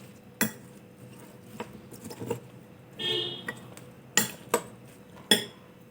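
A spoon working through carrot chutney in a bowl, heard as scattered clinks and scrapes of metal on the dish, with a brief softer rustle in the middle and several sharper knocks toward the end.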